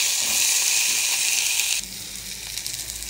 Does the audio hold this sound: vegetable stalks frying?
yes